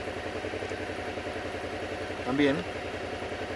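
A 2021 Suzuki V-Strom 650 XT motorcycle engine idles nearby with a steady, even pulsing throb, while someone briefly speaks over it.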